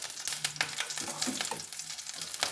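Green chillies fry in a pan for a mango curry, a busy, close crackling sizzle with frequent scraping stir strokes throughout.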